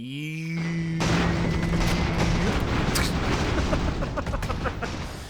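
An ammo store blows up aboard an airship in Airships: Conquer the Skies, a booming blast that rolls into a long, dense rumble of crackling explosions after a brief tonal lead-in, with a voice faintly present.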